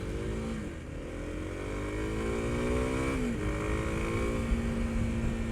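Engine of a 2022 Kawasaki KLX300 SM, a 300cc dual-sport supermoto motorcycle, heard while riding: a steady, close, droning hum that climbs in pitch as it revs, dips briefly, then rises again through the gears.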